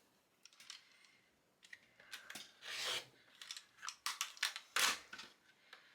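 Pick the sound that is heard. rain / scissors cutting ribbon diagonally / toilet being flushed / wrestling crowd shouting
scissors cutting ribbon diagonally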